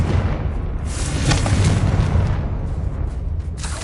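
Hogwarts Legacy's Confringo fire spell explodes in a heavy, rumbling boom, a dense wash of blast noise with sharp cracks on top that holds steady for a few seconds.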